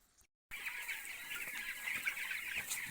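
Chicks clucking and chirping steadily at close range, a busy flock sound with some faint rustling; no one speaks.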